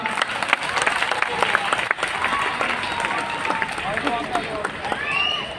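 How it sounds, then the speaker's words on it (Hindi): Children clap together at a school Independence Day celebration, a dense, steady patter of many small hands, with lively chatter and voices mixed in throughout. "एक बार सभी बच्चे जोरदार तालियां"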